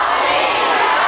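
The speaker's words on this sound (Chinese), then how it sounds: "让我们热情掌声欢迎！" A large crowd at an outdoor evening concert in Chiayi gives a dense, loud, continuous wash of applause and cheering as a singer is welcomed.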